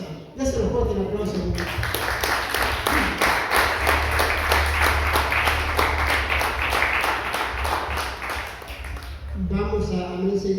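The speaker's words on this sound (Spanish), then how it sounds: "Déselo fuerte el aplauso." A church congregation breaks into sustained, loud rhythmic applause lasting several seconds, framed by a voice speaking before and after.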